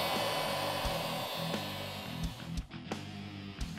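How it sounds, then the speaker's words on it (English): A heat gun blows steadily up close while shrinking clamps onto a Hose Bones radiator hose, a loud, continuous airy roar with an underlying motor hum that dips briefly near the end. "Grab your heat gun and start shrinking them down."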